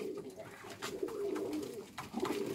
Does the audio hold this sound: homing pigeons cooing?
yes